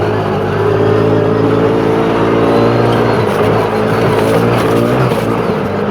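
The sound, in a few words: CFMOTO ZForce 500 side-by-side engine at full throttle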